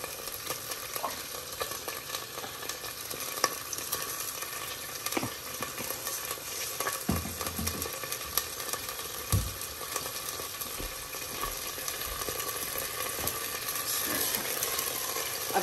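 Minced keema with cumin seeds roasting in a pan gives a steady, close sizzle and fry throughout, with scraping stirs and a few soft knocks of the spoon against the pan.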